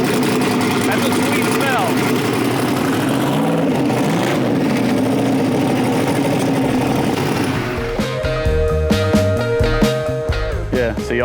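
A 1970 Dodge Charger's engine runs with a loud, rough idle and revving for several seconds, close by and under occasional voices, before music takes over near the end.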